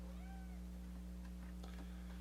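A cat gives a short, faint meow near the start over a loud steady low hum, followed by a few soft ticks and rustles.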